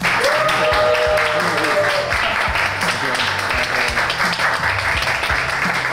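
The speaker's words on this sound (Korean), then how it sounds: "강환국 작가를 여러분의 큰 환호와 박수로 맞아보도록 하겠습니다" An audience greeting a guest author at a studio investment show with applause and cheering, dense continuous clapping under a loud, busy room with some voices and music-like tones.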